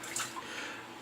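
A steady hiss of running water fills the whole moment, blooming a Reef Point Soaps Dragon's Blood shaving soap. The sound is close, constant and unbroken, with no talk over it.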